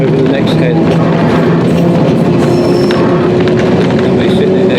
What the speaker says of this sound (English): We leave Ramsay on the electric railway and immediately start the climb over the next head.